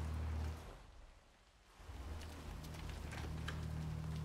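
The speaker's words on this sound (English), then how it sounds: "Let's get you out of the rain, shall we?" Steady rain hisses and patters in a game scene from Hitman 3, a soft continuous wash with a low hum beneath, fading briefly before swelling back to an even, fairly quiet downpour.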